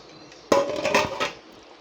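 Water is poured into a pan of mushroom chicken masala curry and stirred, heard as a sudden close splash and clatter lasting under a second before fading to quiet.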